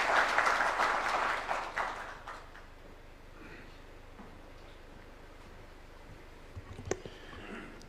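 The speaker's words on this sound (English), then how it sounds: "Let's welcome him with a warm clap." Warm applause welcomes a minister at a Kenyan presidential contract-signing event in Nairobi, loud at first and then fading into a quieter room hum, with a few faint knocks near the end.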